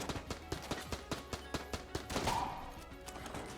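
Shotgun fire in the video game Enter the Gungeon, a quick run of sharp, punchy shots at a fast, fairly regular rhythm mixed with other game effects, moderately loud.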